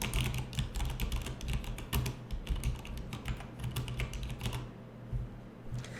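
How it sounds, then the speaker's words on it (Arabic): Typing on a Corsair Strafe RGB mechanical keyboard with light Cherry MX Red switches, a quick, steady run of soft close-up key clacks with no talking. "هذا صوت مقابس الريد، طبعا خفيف زي الريشة، جدا خفيفة."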